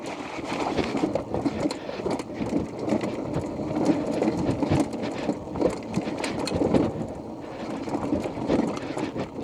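A Terra Prime electric scrambler motorbike ridden back along a trail, heard as continuous rough rumbling and rushing noise with uneven surges, close and fairly loud.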